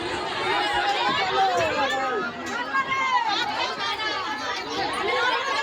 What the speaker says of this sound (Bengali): ভিড় দেখো ট্রেনে, সকলে তো রামতলায় নামবে, সেজন্য প্রচুর ভিড়